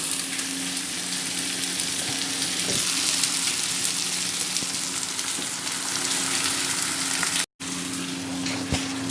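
Tomatoes with chili, salt and garam masala fry in a pan for a Punjabi breakfast, giving a continuous close sizzle with small stirring scrapes and one brief dropout near the end.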